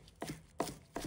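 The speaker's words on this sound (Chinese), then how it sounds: "利落地切成细碎的葱花，放入盘中" A knife chops green onions into fine pieces on a cutting board: three crisp, evenly spaced strikes, close and fairly quiet, with no voices.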